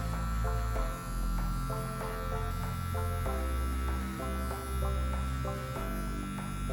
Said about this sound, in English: Use the technique trapping the hair against the clipper to make the cut easier.